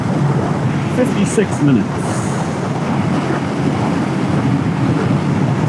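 Wind buffeting the microphone on a Hunter 350 motorcycle cruising on a breezy Texas road trip, a constant loud rumbling roar with someone talking briefly over it.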